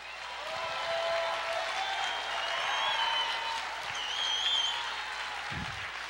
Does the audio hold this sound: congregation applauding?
yes